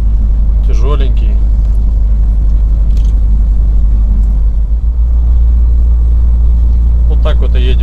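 A heavy Dongfeng truck rolls along at cruising speed, a deep, steady engine rumble filling the cab throughout, while someone talks briefly over it at the start and near the end.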